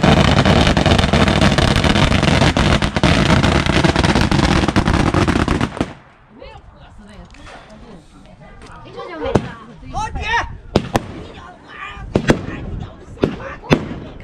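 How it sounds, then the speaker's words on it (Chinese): Firecrackers go off before a rural banquet in Liaoning countryside: a dense, loud crackling string roars for several seconds, then sparse sharp bangs pop at irregular intervals amid background voices. "开席之前先放炮"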